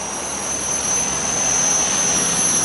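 A Walkera V450D03 RC helicopter flies close by, giving a loud, steady whirring roar with a high, sustained whine that holds constant throughout.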